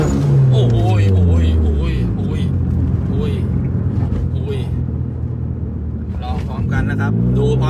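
A turbocharged automatic Toyota Yaris accelerating hard on a test drive, its engine droning loudly and rising through gear changes in a long sweeping pull, with a voice talking over it.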